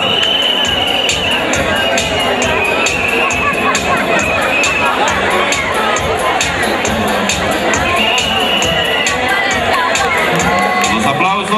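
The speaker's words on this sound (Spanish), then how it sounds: "Los aplausos para dar la bienvenida a Yaritza Lisbeth Apolo Encalada" A crowd cheers and claps at a parish beauty queen election and coronation as a contestant is welcomed; the loud, continuous noise carries voices and chatter within it.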